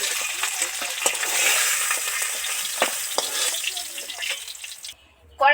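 Deep-fried katla fish comes out of hot oil with a bright, dense sizzle and crackle and some clinking lifts, then the frying drops away to near quiet just before a final sharp clatter.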